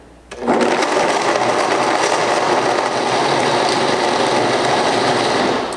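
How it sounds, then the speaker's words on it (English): A countertop blender whirs loudly and continuously, blending Brazil nuts with water into nut milk, starting abruptly after a brief quiet moment and holding a steady dense roar to the end. "we're going to turn on the blender and we're going to blend it"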